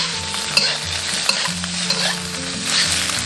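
Beef offal stir-fried in a wok with oil, scallion whites and ginger slices: a steady loud sizzle with repeated scraping clacks of a spatula against the metal, no voices.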